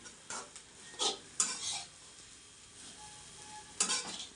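Chivda is stirred and tossed in ghee in a pan, with soft sizzling beneath several scraping, rattling spoon strokes that come in irregular bursts, fairly quiet and with no voices.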